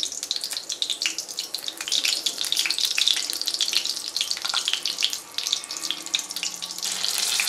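Green chillies and leaves hit hot oil in a pan while cooking prawn biryani, giving a steady, bright, close sizzle that continues throughout with no talking.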